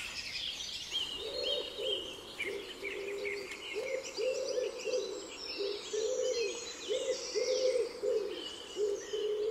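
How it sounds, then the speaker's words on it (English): Wood pigeons coo steadily in a spring dawn chorus, a repeated low soft rhythmic cooing running throughout beneath high chirping birdsong. "Wood pigeons."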